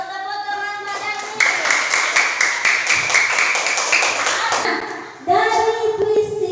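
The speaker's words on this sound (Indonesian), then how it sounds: "bagus, tepuk tangan badannya" Classroom of students clapping together after a pantun recitation, a loud, even burst of rapid hand claps lasting several seconds, with children's voices before and after.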